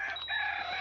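Laying hens in a poultry shed, one close, loud drawn-out crow or call lasting under a second, heard alone.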